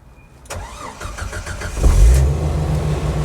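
A 1992 Jeep Wrangler YJ cranks briefly and fires up, settling into a steady, close engine idle with no talking.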